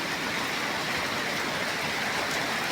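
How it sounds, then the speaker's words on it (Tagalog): Heavy rain pours down in a dense, steady hiss that stays loud and unbroken, with no voices. "Grabe naman ang ulan."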